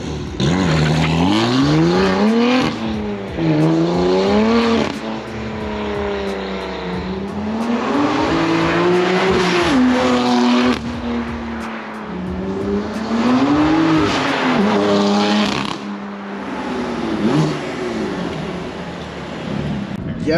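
A BMW F80 M3 with an upgraded shifter accelerates hard through the gears, the loud engine note rising and dropping with each shift in repeated sweeping cycles, heard from inside the car with occasional voices.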